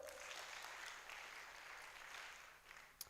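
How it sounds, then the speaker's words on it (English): Crowd applause for sponsors at an edtech exhibition, a steady patter of many hands clapping, faint and distant throughout. "we're going to give a thunderous clap to the sponsors, that is Edify and the partners"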